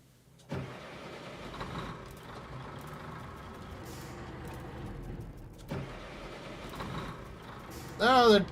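Heavy trucks rumble along a road in the game Roadcraft on hard mode, a steady mid-level engine drone running through the whole stretch with a couple of louder surges and a sharp mechanical whine near the end.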